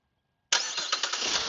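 A pearl white 2015 Chevrolet Impala LTZ engine cranks and catches by remote start after silence, settling straight into a steady, fairly loud idle.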